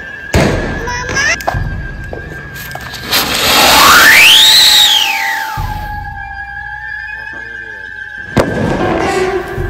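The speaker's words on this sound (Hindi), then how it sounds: "आज गाइस हम छत पे पटाखे चलाएंगे।" Firecrackers set off on a rooftop: sharp bangs at the start, then a rising whistling squeal of a rocket and a crackling burst, followed by more loud pops, with talk in the background.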